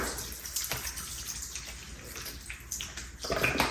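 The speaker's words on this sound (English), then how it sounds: "now I'm just gonna put me some lemon juice in here with some water" Tap water runs into a bowl of baby back ribs with lemon juice, a steady close splashing rush that swells louder toward the end, with no talk.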